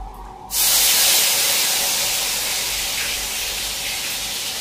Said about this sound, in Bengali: না, আগে পনিরটা ভেজে নিই।